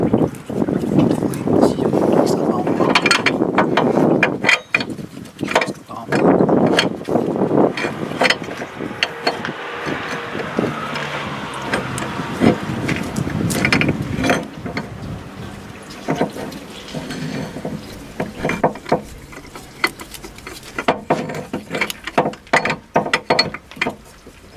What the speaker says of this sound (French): On va extraire la pompe.